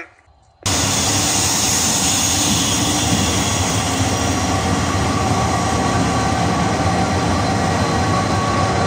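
A loud export freight train arrives at a station in Erzurum, with a continuous heavy rumble and rolling wagon noise starting abruptly after a brief quiet moment.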